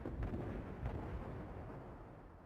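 Ship gunfire shells strike a target in a naval video game, heard as a couple of dull, rumbling booms layered into a continuous low roar of explosions, moderately loud and without speech.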